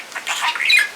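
A parakeet lets out a quick, close squawk lasting about a second, made of shrill, scratchy chirps with no voices around it.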